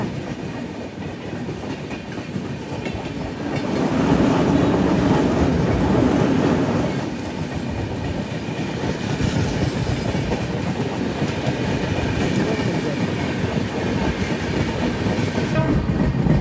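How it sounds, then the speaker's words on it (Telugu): The Ahmedabad–Howrah express train rumbles past close by on the adjacent track, a loud rolling roar with rhythmic clattering of wheels that swells midway and then settles into a steady clatter. "అక్కడ ఏదో ట్రైన్ వస్తుంది చూడండి, ఏ ట్రైనో చూద్దాం."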